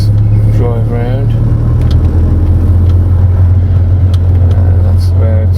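A Mk1 Audi TT drives along with a loud, steady, low engine drone and road rumble, heard from inside the cabin, while a voice talks briefly over it.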